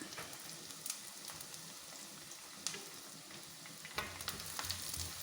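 Ginger, green chilli and curry leaves sizzle while frying for Kerala-style prawn mappas, a steady dense crackling hiss with scattered pops and a brief stir-like scrape, continuous throughout without talk.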